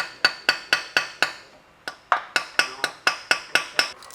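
A series of sharp metallic hammer taps on a heavily corroded stuck bolt of a BMW E60 M5, evenly spaced and fairly close, with a brief pause partway before the steady tapping resumes.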